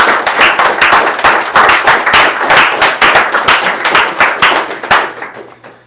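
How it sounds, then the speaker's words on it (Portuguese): A church congregation claps for Jesus during a sermon, loud rhythmic clapping close up, distinct sharp claps in a fast repeating pattern that fades toward the end. "Você pode dar um aplauso ao Senhor Jesus?"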